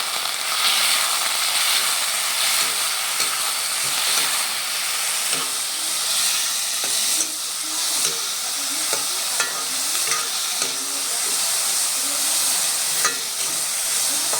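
Dal lentils sizzle loudly in a hot pan while cooking an Assamese traditional dish, a steady close hiss of frying with faint stirring clicks throughout.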